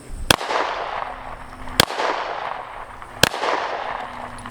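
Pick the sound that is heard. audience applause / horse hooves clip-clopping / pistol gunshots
pistol gunshots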